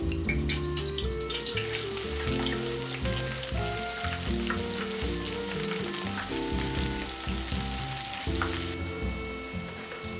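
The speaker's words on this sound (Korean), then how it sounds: "새우젓도 조금 쥐었다가 뜨거운 기름에 넣어서 튀겨주세요" Salted shrimp sizzling and frying in hot oil, a loud, steady crackle that holds without a break and carries bursts of bubbling spatter.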